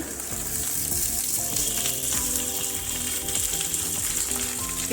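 Carrots, cauliflower and tomatoes hit a pot of already-cooking potatoes for vegetable pulao, giving a steady, fairly loud sizzle and crackle with faint clinks, continuous throughout and with no voices.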